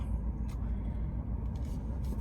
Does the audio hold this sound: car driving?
yes